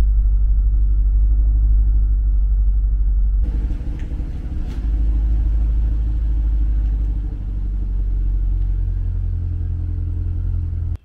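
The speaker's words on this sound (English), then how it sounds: "So we're gonna back this car out of the driveway, and we're gonna have a warm engine" A 2022 Chevrolet Corvette C8 convertible idles with a deep, steady engine rumble, then grows a little fuller and rougher as it backs out of a driveway, loud and close throughout with no one speaking.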